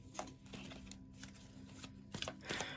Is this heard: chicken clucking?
no